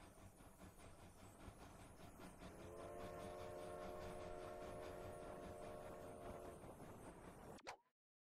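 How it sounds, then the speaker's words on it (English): A train rumbles by in the video game Sly Cooper: Thieves in Time, a faint continuous clatter with a sustained tonal whistle-like chord in the middle before cutting off abruptly. "Speaking of train."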